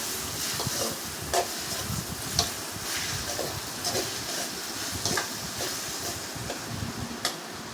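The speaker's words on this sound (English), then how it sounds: "We have to fry it for 1 minute." Onion and chopped tomatoes frying in a pan, a soft continuous sizzle broken by irregular scraping stirs and light utensil taps, fairly quiet with no voices.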